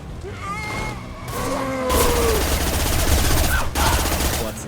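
Sustained automatic gunfire in the video game Mass Effect 2 rattles loudly and close in rapid bursts, with brief character voices speaking before the shooting swells.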